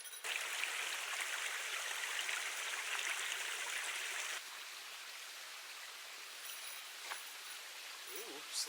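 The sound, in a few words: mountain stream flowing water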